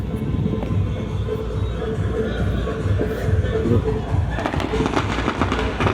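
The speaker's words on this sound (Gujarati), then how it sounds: "અહીંયા કાંઈ ફટાકડા ફૂટે છે" Dense crackling firecracker bursts pop continuously over a steady rumble near a cave at Talaja, growing sharper and busier toward the end, with faint voices in the background.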